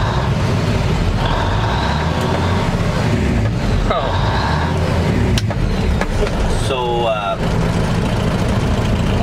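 A 1974 truck fitted with a new engine runs steadily, a loud continuous rumble that fills the clip, with a person talking over it.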